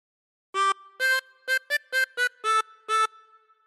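A 24-hole tremolo harmonica plays the opening phrase of We Wish You a Merry Christmas, eight clear wavering notes in a bouncy rhythm, played alone, close and clean.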